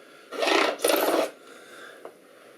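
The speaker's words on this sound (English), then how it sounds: "And we run that along the edge of the fingerboard, creating a bevel on the edge." Two quick rasping strokes of a bevel file drawn along the edge of a guitar fingerboard during fret-end smoothing, close and distinct, followed by a faint tap.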